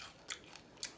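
Crunchy air-fried bacon is bitten up close, two quick crisp cracks in about a second, faint and with no talk.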